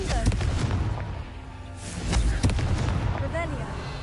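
Confringo blasting spell cast in a video game, a series of loud booming explosive bursts stacked closely together over a rumbling low end, with a voice present throughout.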